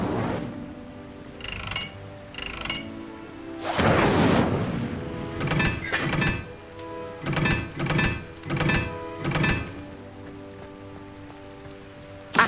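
The Incendio fire spell in Hogwarts Legacy goes off repeatedly in bursts of whooshing, crackling flame with dull impacts. One large blast is followed by a series of shorter rhythmic bursts, with no voices.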